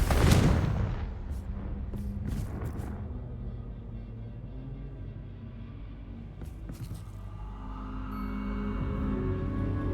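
Explosive Confringo spell blasts in Hogwarts Legacy on PS5: a heavy boom opens, then a low rumbling roar lingers with scattered crackling bursts and a rising hum toward the end.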